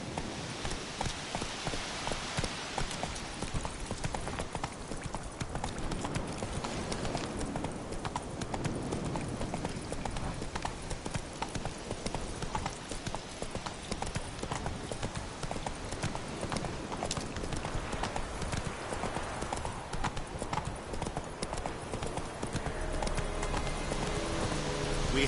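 Roach, the horse from the game Witcher 3, gallops in a fast, steady clip-clop of hooves that runs throughout, close and clear, over a soft rain-like hiss, with brief voices in the background.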